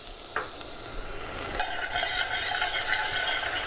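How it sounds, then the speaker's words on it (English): Green onions sauté in sesame oil in a hot pan, a bright sizzle that swells after a clink and a scrape of the utensil, then holds steady and close without talk. "And then you're gonna take your sesame oil and your green onions. And you're gonna saute this for about a minute."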